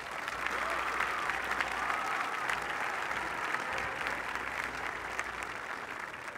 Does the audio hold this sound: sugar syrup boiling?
no